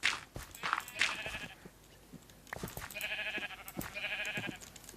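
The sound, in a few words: sheep bleating in Minecraft video game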